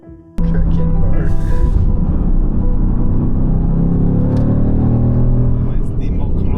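A McLaren sports car engine rumbles loudly and steadily, building in pitch as the car accelerates close by, with voices talking over the roar.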